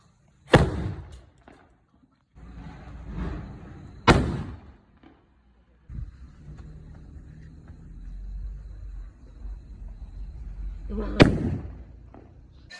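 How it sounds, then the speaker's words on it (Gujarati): Three sharp firecracker bangs go off at intervals, each a loud close crack, with voices and crowd noise murmuring between them. "હાલો બોમ્બ ફોડવાના છે"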